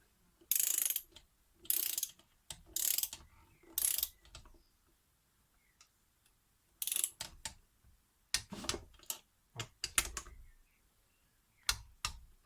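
A ratchet wrench with a 12 mm socket clicks in bursts of quick pawl strokes while assembling the gearbox of a 2008 Suzuki Swift with the 1.3 petrol M13 engine. It sounds close and moderately quiet, with short pauses between strokes and no talk.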